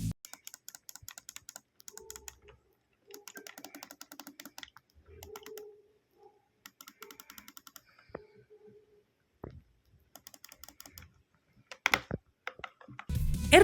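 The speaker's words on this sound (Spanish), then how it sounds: "Aquí podéis escuchar los botones" Mechanical A, B, X and Y face buttons on QRD Stellar T5 Joy-Cons for the Nintendo Switch, pressed in quick close-up clicking bursts with short pauses, crisp and fairly quiet, ending with a few louder knocks.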